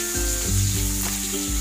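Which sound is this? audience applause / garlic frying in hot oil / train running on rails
garlic frying in hot oil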